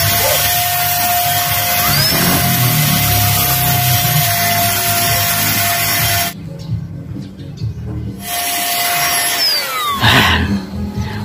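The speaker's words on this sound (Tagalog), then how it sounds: "Ayos din naman pala talaga ito electric sprayer." An electric spray paint gun sprays thinned paint onto a car during a repaint, giving a steady loud motor whine that drops out briefly midway, then resumes with a rising pitch sweep.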